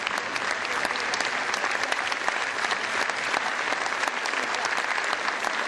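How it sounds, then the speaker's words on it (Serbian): Audience applause after a ballet performance by the Serbian National Theatre ballet: dense, sustained clapping from a large crowd, loud and even throughout with no voices standing out. "kad posle predstave dobijemo lep aplauz"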